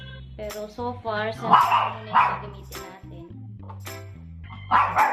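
A dog barks and yips repeatedly inside a house during a ringlight unboxing, the barks fairly close and recurring under a person talking.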